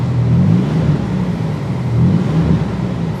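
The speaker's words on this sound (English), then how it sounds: "I can feel the motor jumping when I'm revving it." A 2004 Buick LeSabre engine with a bad motor mount, a misfire and an exhaust leak revs up loud and close, rising twice in low rumbling surges over a steady idle with no talking.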